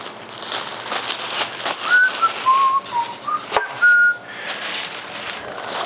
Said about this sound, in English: When I'm happy, I whistle and try to sing. I like whistling better.